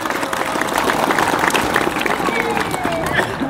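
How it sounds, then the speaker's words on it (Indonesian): An audience applauding at a speech about the people of Madura, with dense continuous clapping from a crowd and light background chatter running through it. "Tepuk tangan untuk orang-orang Madura."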